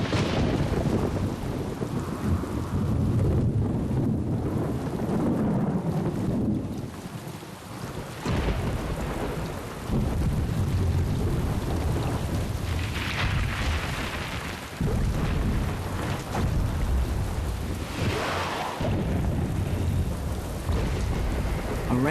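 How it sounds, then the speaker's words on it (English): Heavy rainstorm with a steady, dense roar of rain and deep rumbling thunder rolling through it, loud and continuous throughout. "A rainstorm can be deadly."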